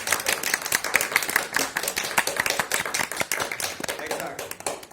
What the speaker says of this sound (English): So let's try big round of applause.